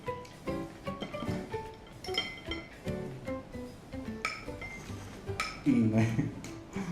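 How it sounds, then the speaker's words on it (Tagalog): Utensils clink and clatter against a plate while someone eats chicken siomai and Yang Chow fried rice. The light, bright taps come in quick irregular bursts, close by, and a person talks between and over them. "Kumakalampag yung plato."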